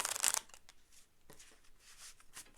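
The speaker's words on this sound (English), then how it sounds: "I think messy shuffling should count for style points." Quick riffling and snapping of cards being shuffled, a loud burst at first followed by softer, uneven shuffling.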